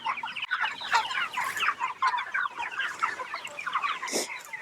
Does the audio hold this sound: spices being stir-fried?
no